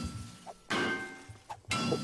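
Axe strikes smashing a safe in the video game 7 Days to Die: two loud, sharp shattering impacts about a second apart, each with a ringing crash tail.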